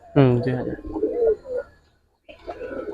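Giribaz pigeons coo in a loft, a throaty warbling call close by, with people talking over and around it.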